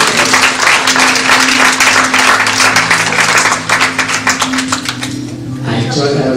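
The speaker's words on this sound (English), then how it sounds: "So, give him a round of applause" Audience applause at a Maha Kali Yatra festival night, a loud dense burst of many hands clapping that thins and tapers toward the end, with a sustained tone and voices underneath.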